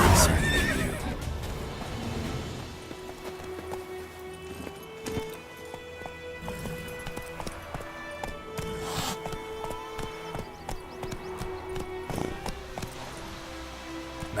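Roach, Geralt's horse in The Witcher 3, neighs and whinnies over a steady clip-clop of hooves, with a music score underneath running throughout.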